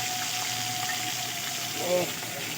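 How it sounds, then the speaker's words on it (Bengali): Boal fish frying in a pan, with a steady, full sizzle that holds throughout and a brief swell of bubbling near the end. "বোয়াল মাছ ভাজা বসিয়ে দিয়েছি"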